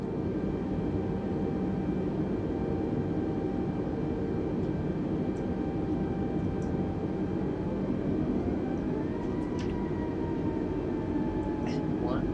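A simulated airliner in Microsoft Flight Simulator holds a steady engine drone on the runway as the thrust levers move forward for take-off, and a tone rises partway through as the engines spool up.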